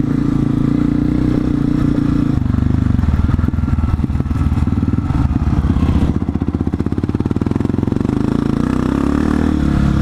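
A Honda CRF 250 F off-road motorcycle engine runs close and loud during riding, its four-stroke growl rising and falling as the throttle opens and eases, with clattering rattles mixed in.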